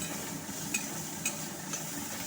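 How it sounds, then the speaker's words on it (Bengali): Chopped carrots are stirred and fried with flattened rice in a pan, making a quiet, even sizzle broken by a few light spatula scrapes. "গাজর কুচিগুলো দিয়ে নাড়তে থাকলাম এগুলোকে ভেজে নিতে হবে"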